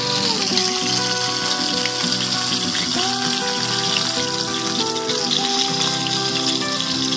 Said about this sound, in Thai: ตอนนี้ผมก็จะทอดไปเรื่อยๆ